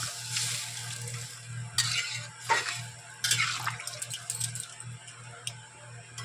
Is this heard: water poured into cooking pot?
yes